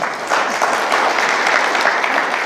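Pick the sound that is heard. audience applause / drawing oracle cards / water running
audience applause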